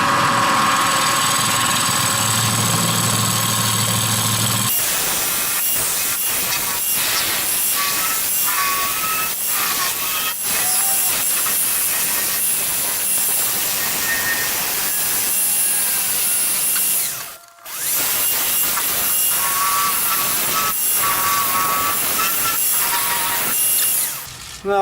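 Wood lathe spinning a carrot wood vessel at 1200 RPM, a loud, steady machine drone with gritty cutting and scraping from the tool that runs the whole time, broken by one brief pause.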